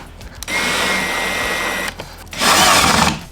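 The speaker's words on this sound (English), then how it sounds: "I'll screw them on just to be sure." Power drill driving screws to fit a front lip onto a 2024 Tesla Model Y Performance bumper, two whirring bursts close up, the second louder and higher, separated by a short pause.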